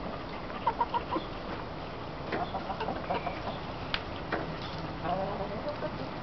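Chickens clucking and squawking in short bursts while being held close by hand, with a few sharp peeps and fluttery movement over a quiet indoor background.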